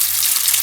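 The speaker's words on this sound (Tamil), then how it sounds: "தண்ணியெல்லாம் நல்லா வடிக்குங்க" Water from boiled noodles drains away in a steady, hissing gush, heard briefly and up close with no talking.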